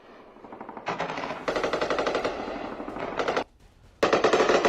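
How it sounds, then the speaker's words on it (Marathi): Heavy machine-gun fire in cross-border shelling across the Kashmir frontier between Pakistan and India, loud rapid bursts in long sustained volleys, broken by a brief pause before another close, intense burst. "पुन्हा एकदा पाकिस्तानने भारतावरती हल्ला केलेला आहे, जोरदार गोळीबार केला जातोय।"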